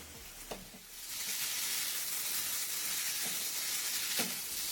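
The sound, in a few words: paneer tikka sizzling in a pan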